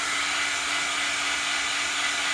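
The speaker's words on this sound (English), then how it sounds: "I'm going to dry this real quick so we can cut it out." Hair dryer blowing steadily to dry a paper cutout for a craft page, a continuous, close airy whoosh with a faint motor hum and no talking.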